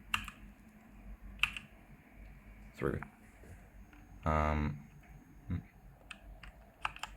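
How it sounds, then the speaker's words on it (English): Computer keyboard keys on a microcontroller Sudoku game interface are pressed one at a time, a few sharp separate clicks spaced across several seconds amid quiet room noise, with a brief spoken word between them. "using the keyboard to move around"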